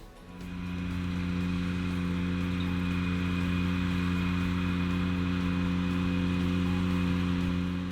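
A Ventrac compact tractor's engine runs steadily at close range, a constant mid-pitched droning hum after a brief start, heard alone with no talking.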